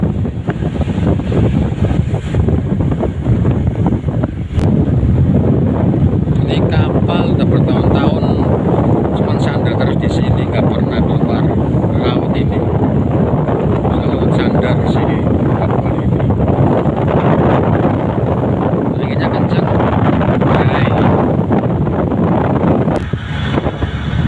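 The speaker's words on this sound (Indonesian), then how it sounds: "Anginnya lumayan besar, anginnya mantap." Strong wind at the Port of Aveiro, Portugal, roars continuously and loudly, buffeting the microphone with heavy rumble throughout, with faint voices underneath.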